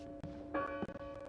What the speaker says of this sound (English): Why would Betty ring the church bell?